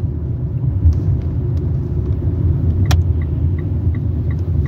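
Cars passing close by on a road, a steady low rumble of traffic with a brief louder whoosh as one vehicle goes by, no talking.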